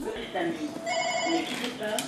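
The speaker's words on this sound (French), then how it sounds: "Au centre de traitement d'alerte, le téléphone sonne sans arrêt." A telephone rings at a fire brigade emergency alert center in Mayotte, a bright electronic trill heard faintly beneath a voice talking over it.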